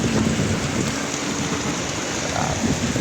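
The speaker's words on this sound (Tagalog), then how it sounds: "nakakatakot ang ano yung lakas ng kidlat sa saka kulog" Steady, heavy rain pours down throughout with a dense hiss and low rumbling of thunder beneath it, constant and loud.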